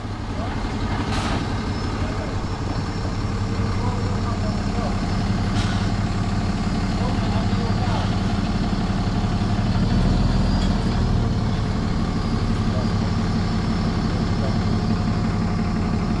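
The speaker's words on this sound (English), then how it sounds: "This is the truck that was emptying, I'm guessing, because it's now coming out." A truck that has just emptied rumbles out at close range, a heavy continuous low engine drone with faint hissing bursts, while people talk over it.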